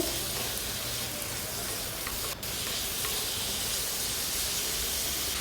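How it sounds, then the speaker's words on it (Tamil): Onions and tomatoes sauté in a pan with salt for spicy kara chutney, giving a steady, loud hiss and sizzle that runs continuously throughout, with one brief dip. "சட்னிக்கு தேவையான அளவு உப்பு போட்டு நல்லா வதக்கி விட்டுருங்க."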